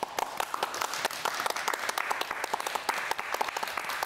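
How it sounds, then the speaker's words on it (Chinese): A studio audience on a television talk show applauds to welcome a guest, with dense, crisp hand clapping that runs continuously for around four seconds at moderate loudness, with no talking over it. "先来用热情的掌声欢迎来自台南仁德的最佳女主角郑雪"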